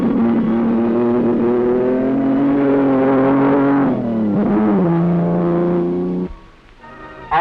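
A Frazer Nash sports car makes a fast timed run on a 1952 RAC International Rally speed test in the Welsh countryside, its engine a loud, steady, close drone. The drone rises and falls through gear changes, then cuts off abruptly near the end.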